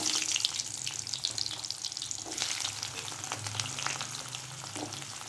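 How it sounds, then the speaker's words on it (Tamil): Onions frying in oil with mustard seeds and urad dal for a coriander chutney, heard as a soft, steady crackling sizzle with occasional stirring scrapes, fairly quiet and close, with no talking. "உளுந்து பொரிஞ்சதும் இந்த வெங்காயத்தை இதில் சேர்த்துக்கலாம்."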